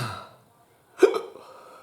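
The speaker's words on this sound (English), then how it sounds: "I couldn't stop hiccuping." A single sharp hiccup bursts out near and loud after a quiet pause, followed by a short trailing breathy sound, from a person eating a fiery 7-pot pepper sauce.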